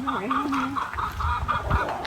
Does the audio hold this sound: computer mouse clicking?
no